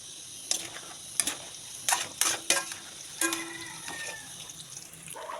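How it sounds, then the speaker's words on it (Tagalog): Ikyam and squid balls frying in a pan, with a soft sizzle under a series of sharp clanks and scrapes of a utensil against the pan, fairly quiet and close. "Prituin lang muna natin yung ating ikyam. Sabayin na natin pati yung ating squid balls."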